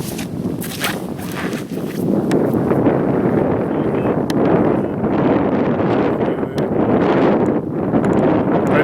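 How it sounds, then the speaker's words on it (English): A strong headwind blows across an open disc golf course, a steady, loud, buffeting rumble that roars against the microphone for the whole stretch with brief dips in the gusts, and no voices. "It's tough with the headwind."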